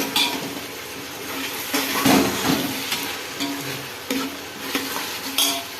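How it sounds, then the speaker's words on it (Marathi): Tomato paste sizzling in a pan while being stirred for chicken biryani, a steady frying hiss broken by scraping spoon strokes and light clanks against the pan. "टोमॅटोची पेस्ट घातली आहे, चांगला हलवून घेऊया"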